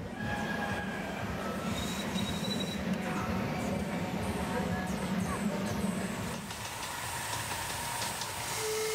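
A miniature steam locomotive rolls along a small-gauge track at a model engineering steam rally, with a steady rumble of wheels, faint squeals and hiss, and the noise eases near the end.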